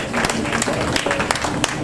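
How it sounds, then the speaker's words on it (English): Audience applause at a school Grandparents Day event, a dense and fairly loud spread of clapping with a few sharper claps standing out. "Let's give him a round of applause for doing that for the grandparents."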